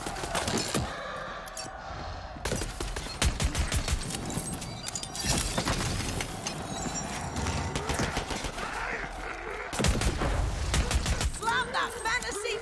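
Enemy gunfire in Tiny Tina's Wonderlands, repeated sharp shots in quick volleys over busy battle noise, with a person speaking throughout.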